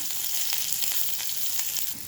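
Thinly sliced onions frying in mustard oil with nigella seeds, a dried red chilli and green chillies, a steady close sizzling hiss with faint crackles, alone without voices.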